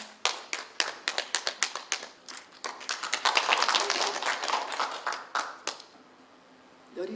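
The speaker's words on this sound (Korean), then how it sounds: "박수로 맞이하겠습니다." An audience at a volunteer speaking event claps to welcome the next speaker: scattered individual claps build into a denser round of applause, then stop abruptly, leaving near silence.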